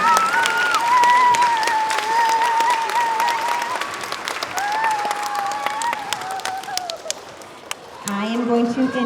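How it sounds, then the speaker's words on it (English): A crowd at the Park Terrace school award assembly in 2023 applauds the award winners with loud, sustained clapping. Cheering voices carry over it, the applause dips briefly, and a voice then speaks as the clapping continues. "Let's give one more round of applause to all of our award winners."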